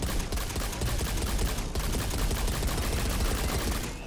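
Rapid automatic weapon fire in the video game Satisfactory, a dense, loud, continuous burst of shots lasting about four seconds and tapering at the end.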